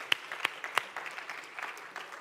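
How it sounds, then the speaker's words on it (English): Conference audience applauds at a live event, a few sharp individual claps standing out at the start before the clapping settles into a softer, steady patter, heard from a distance. "let's give them a big round of applause."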